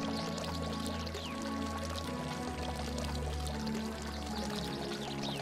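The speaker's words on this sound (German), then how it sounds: "Wasser läuft." Water runs and pours steadily inside the horror video game Gray Dawn, a continuous even splashing that holds at a constant level throughout with no speech over it.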